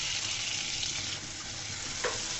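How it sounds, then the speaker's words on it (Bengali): Ginger, garlic, onion and green chilli fry together in a pan with cinnamon, cardamom and cloves, giving a steady dense sizzle with a light stirring scrape near the end, close and without speech. "আদা রসুন পেঁয়াজ কাঁচামরিচ একসাথে আমার ভাজা হয়ে গেছে"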